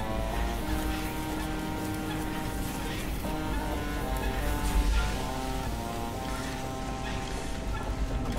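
Small boat motor in the video game FAR: Changing Tides, a steady chugging hum with layered tones running throughout at moderate loudness, with a faint thump midway.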